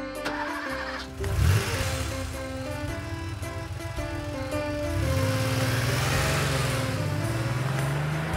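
A small Volkswagen Beetle engine turns over and starts, then settles into a buzzy, revving idle that rises and falls in pitch.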